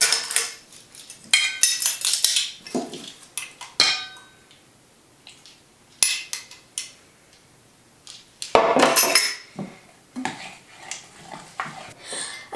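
Utensil stirring borax activator into glue in a bowl, heard as bursts of scraping and clinking against the bowl with short pauses between, fairly close and with no talking.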